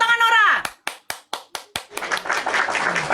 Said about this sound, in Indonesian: Tepuk tangan Nora.